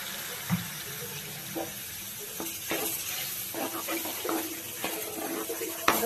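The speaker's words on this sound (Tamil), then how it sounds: "இப்போ மசாலா அரைச்ச ஜாரை வாஷ் பண்ணி தண்ணி சேர்த்துக்கலாம்." Water runs and splashes as a blender jar used for grinding masala is rinsed, with scattered clinks and knocks against it; no talking.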